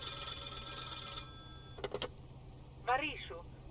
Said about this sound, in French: Ah oui, c'est le téléphone, ça sonne pendant 5 minutes.